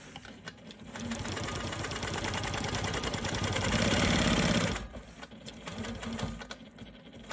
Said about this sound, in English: I'm stitching on top of a previous line of stitching.